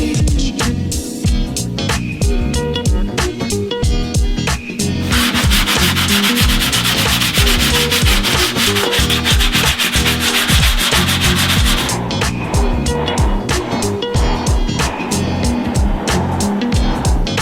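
Block sanding a car fender on a Japanese car during bodywork, a loud steady rasping rub in repeated back-and-forth strokes, close up, over background music with no talk.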